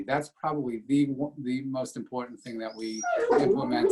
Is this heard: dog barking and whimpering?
yes